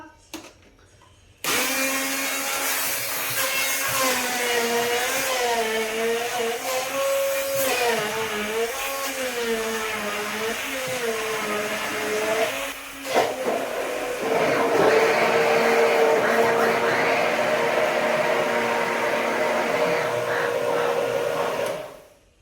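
A kitchen blender grinding garlic chutney, a steady loud motor whine with its pitch wavering as the contents churn, then a brief dip before it carries on at a harsher, higher pitch until it stops.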